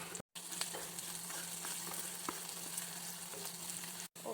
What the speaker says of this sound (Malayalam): ഇഞ്ചി, വെളുത്തുള്ളി, ചെറിയ ഉള്ളി ഇട്ട് നന്നായിട്ട് ഇളക്കാം